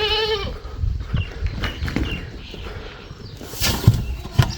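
Goat bleating on a village farm, a wavering bleat at the start and then quieter shuffling and faint calls with a couple of sharp knocks near the end, recorded close with some light background activity.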